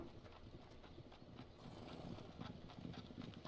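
Horses' hooves clip-clop quietly in Farming Simulator 17, a soft steady patter of steps under low wind-like ambience.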